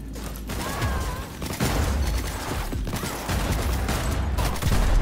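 Rapid bursts of gunfire from the video game Cyberpunk 2077 crackle steadily across the whole stretch, dense and continuous in the mix, with a voice briefly audible near the start.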